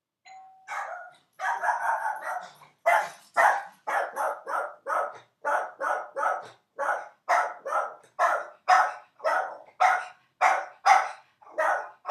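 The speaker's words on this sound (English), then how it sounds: "my dog grew slowly less excited as the barking went on." A doorbell chime, then a dog barks repeatedly in a steady rhythm, a dozen or more loud close barks spaced about half a second apart.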